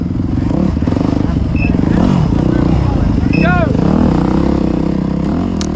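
A race motorcycle revs and roars on a sand track, its engine note rising and falling in loud, close surges with some clatter throughout.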